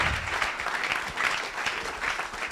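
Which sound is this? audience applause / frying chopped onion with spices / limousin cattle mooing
audience applause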